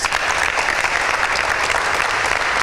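A crowd at a Bible quiz gives loud applause, a dense, even roar of clapping that holds steady for the brief moment without talk.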